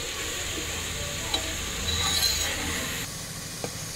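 Onion paste sautés in a pan, a steady moderate sizzle with a few light scrapes of stirring, close and without voices.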